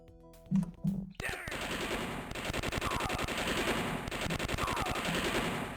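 Rapid bursts of gunfire from the shooter video game Star Wars: Dark Forces, loud and dense, with sustained rattling shots and game sound filling nearly six seconds after a brief quieter lead-in.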